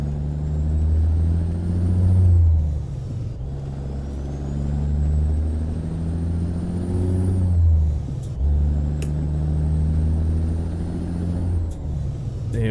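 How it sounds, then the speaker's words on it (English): A heavy truck in American Truck Simulator rumbles steadily at low revs, its engine note dropping as the trailer brake is applied, with a few sharp air-brake hisses and clicks near the end. "And I'm gonna put that trailer brake on."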